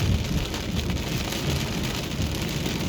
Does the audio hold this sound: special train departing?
no